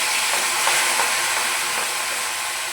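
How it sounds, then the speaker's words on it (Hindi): Chopped onion dropped into hot oil in a kadhai, giving a loud, steady sizzling hiss that holds for a few seconds and eases slightly toward the end. "तो तेल हो चुका है गर्म। अब हम इसमें डालेंगे कटा हुआ प्याज"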